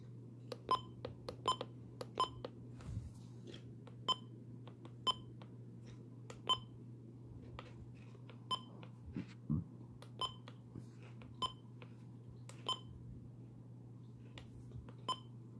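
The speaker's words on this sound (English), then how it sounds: "the button beeps have certainly gotten more efficient on the version 2 WR400" Short electronic keypress bleeps from a Midland WR400 version 2 radio, coming in irregular bursts and single presses over a steady low hum, close and distinct with no voices.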